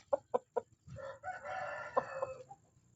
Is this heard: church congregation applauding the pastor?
no